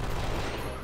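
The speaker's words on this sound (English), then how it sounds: "So we're just spamming gunshots." Dense, continuous burst of rapid gunfire from the Wild Arms 3 video game, a steady loud barrage of overlapping shots with no gaps through the whole moment.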